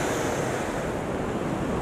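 A clear, ice-cold mountain river in Pirin park, Bulgaria, heard from a bridge in the rain: a steady, loud, broadband rush of flowing water that fills the whole stretch without pause.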